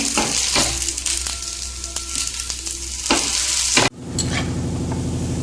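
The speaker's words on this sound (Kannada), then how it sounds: "ಇದು ಎಣ್ಣೆಲಿ ಹಾಕಿರೋದು ಡೀಪ್ ಫ್ರೈ ಮಾಡ್ತಾ ಇರೋದು" Fenugreek leaf vadas bubble and crackle in hot oil as they deep fry. The hiss is loud and continuous, with a few clinks of a utensil and a sudden shift midway as the frying sound changes.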